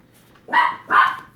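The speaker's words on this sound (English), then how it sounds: "Oh, there goes the doggies." A dog barks twice indoors, two close, loud barks about half a second apart after a quiet start.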